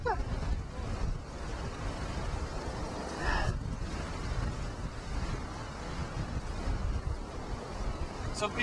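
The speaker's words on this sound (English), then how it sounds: "it's kicking up some really huge waves over there on Ontario Place and out there on the island" Strong wind buffets the microphone while big waves crash and surge along the Lake Ontario shore at Ontario Place in winter, a constant rough roar with a few louder gusts.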